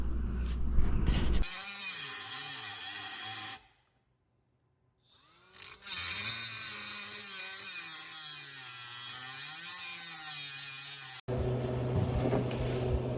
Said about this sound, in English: So going on here is we're cutting and modifying to it.